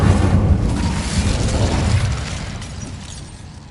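A fire spell in the Hogwarts Legacy video game bursts with a loud, booming explosion, then a dense roaring rumble that slowly fades over a few seconds, with no one talking.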